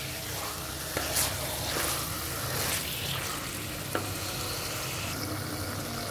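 Chicken curry sizzles and bubbles in a pan with sugar added, stirred with a steady frying hiss and a few scraping clinks of the spoon, at moderate loudness.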